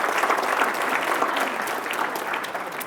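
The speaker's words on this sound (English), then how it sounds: "Let's give these ladies a round of it, and gentlemen a round of applause." Sustained audience applause at a State of the City civic address, a dense, steady wash of clapping from a large crowd that fades slightly toward the end.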